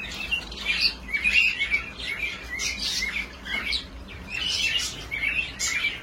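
Pet birds in an indoor bird house chirp and tweet in quick, overlapping bursts, a lively close chatter of several small birds with occasional squawks and faint background rustling, no voices present.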